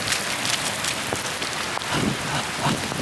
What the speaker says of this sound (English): I've never seen it rain this much in California.